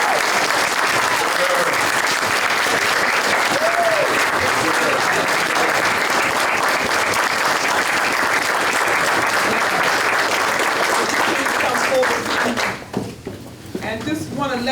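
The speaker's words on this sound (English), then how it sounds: "And I want you all to give him a great round of applause." A council meeting audience applauds the swearing-in of a new police chief, sustained steady clapping from a roomful of people that holds loud and even before cutting off near the end.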